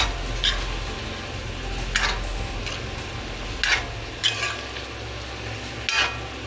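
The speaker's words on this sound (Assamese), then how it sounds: "কুটি লোৱা পচলাখিনি দি দিম আৰু তাক পুনৰ ভালদৰে লৰাই তাৰ লগত মাংসখিনিৰ লগত ধুনীয়াকৈ মিহলি কৰি দিম" Chicken with chopped banana stem pulp and potato is stirred in a pan, with a low frying hiss broken by several distinct spatula clinks and scrapes at irregular intervals, close and without voices.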